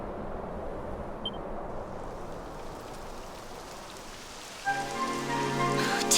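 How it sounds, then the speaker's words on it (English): Steady rain falling in the Dragon Quest XI video game, a soft continuous hiss on surfaces, joined near the end by a brief burst of game music. "Typical. It would have to go and start raining, wouldn't it?"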